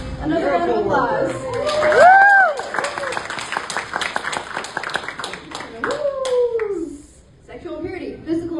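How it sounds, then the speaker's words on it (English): A round of applause at a presentation: scattered hand claps building into a dense patter for several seconds, with whooping, howl-like cheers and voices rising over it before it thins out. "Another round of applause."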